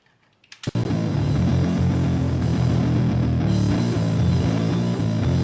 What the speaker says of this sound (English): I can hear the nasty part of the bass, which that's what I want because it's a fuzzy sound.